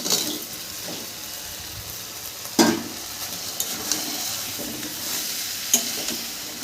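Potatoes and crab tipped into hot, well-fried masala in a pan, a steady sizzle with sharp splashy bursts as pieces land and get stirred, close and moderately loud, no talking.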